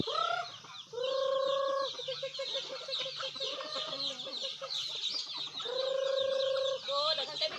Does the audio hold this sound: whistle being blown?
no